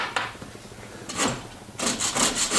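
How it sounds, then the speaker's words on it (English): Hand chisel paring wood off a gunstock, heard as a few short close scraping strokes separated by brief quiet gaps. "So the only thing I know to do is just sit here and chisel it off."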